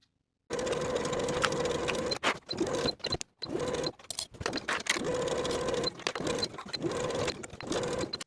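A sewing machine bastes around the lining of a crossbody belt bag in bursts of rapid stitching. Brief pauses break up the run, and the motor whirs close by with no talking.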